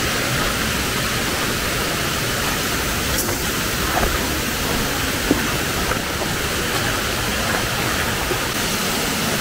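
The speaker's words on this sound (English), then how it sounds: "And that's the second waterfall." A waterfall in El Nido, Philippines pours with a loud, steady broadband roar, unbroken and close, with no voices over it.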